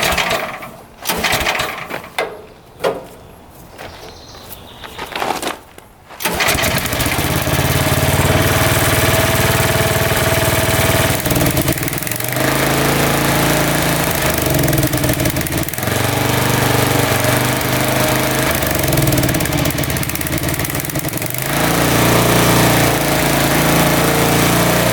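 The engine of the world's smallest bulldozer, a pull-start machine, sputters in uneven bursts, then throttles up to full power in a loud, steady, close-up roar that holds to the end.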